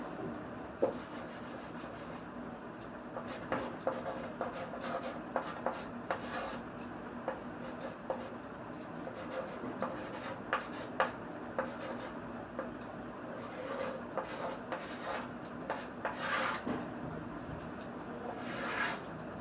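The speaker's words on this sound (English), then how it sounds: "let me write it a little big" Writing on a board during a subtraction lesson on regrouping: steady scratchy rubbing strokes, close and fairly faint, with small taps and pauses between marks and no talking.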